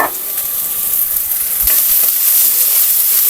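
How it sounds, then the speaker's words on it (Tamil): Onions sauté in a pan for a vegetable sabji, with a loud, steady sizzle and frying hiss and a few soft stirring scrapes. "வெங்காயம் ஓரளவுக்கு வதங்கிடுச்சு"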